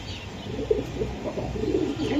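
A male club-raced racer pigeon and others coo softly in a few low, burbling phrases, fairly close and without talk.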